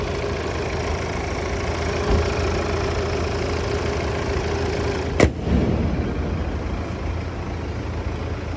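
Steady, even engine drone from a Volvo XC60 creeping along at idle with no throttle after 100,000 km, close and constant throughout, broken once by a brief sharp knock, with no talking.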